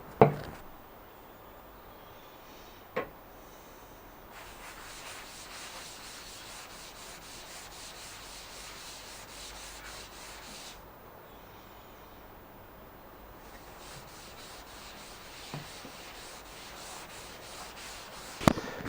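Rubio Monocoat oil finish being rubbed onto wood for a pedalboard and amp stand, a soft steady scrubbing texture running throughout with a few sharp knocks near the start and end.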